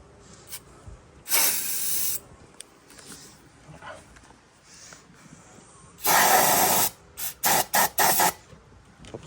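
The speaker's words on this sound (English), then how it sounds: "So I guess we'll try some starting fluid." Starting fluid sprays into a Yamaha golf cart engine in several hissing bursts, one long and others short and rapid, loud and near, with quiet gaps between.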